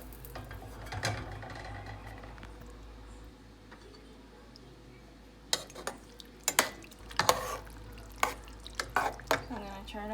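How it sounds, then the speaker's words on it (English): Pasta sauce being stirred in a pot on a stove, with a quiet simmer and then a run of clinks and scrapes from the utensil against the pot toward the end. "Stir."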